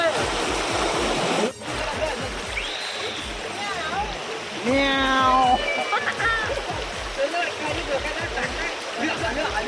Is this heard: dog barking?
no